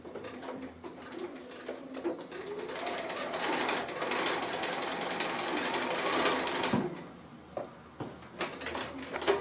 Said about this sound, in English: I'm just going to stitch across probably not even ½ inch in